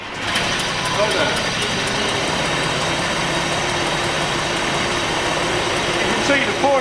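The engine of a 1914 Rolls-Royce Alpine Eagle runs with a steady, loud mechanical rumble and clatter, close by, as people talk nearby.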